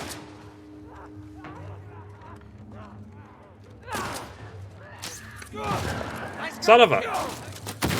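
Gunfire in The Last of Us Part 1, with a few sharp shots and thuds over a quiet game soundscape, building into a louder burst near the end as a voice swears.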